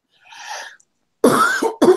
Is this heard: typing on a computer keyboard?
no